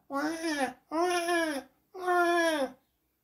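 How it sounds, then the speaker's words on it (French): Three long, wailing cries from a baby, each lasting under a second, separated by short pauses, fairly close and clear. "elle entend loin les pleurs étouffés d'un bébé."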